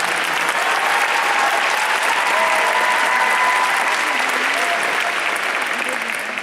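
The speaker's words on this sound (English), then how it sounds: "you can give them a hand for that" An audience claps for a performance at an MFA final show, a dense, loud, sustained round of applause that holds steady throughout and tapers only slightly at the very end.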